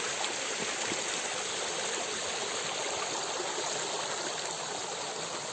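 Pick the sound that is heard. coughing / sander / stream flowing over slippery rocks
stream flowing over slippery rocks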